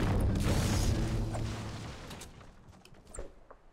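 An object being smashed apart in Fortnite, heard as a loud rumbling crash of impacts that slowly fades into lighter scattered knocks.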